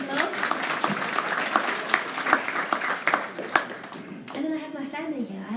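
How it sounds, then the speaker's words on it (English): Audience applause at a live-streamed talk, many hands clapping with distinct sharp claps under a voice that talks over it, then the clapping fades while the speech continues. "does my dad get a round of applause?"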